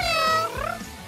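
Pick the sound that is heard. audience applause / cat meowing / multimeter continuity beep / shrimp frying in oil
cat meowing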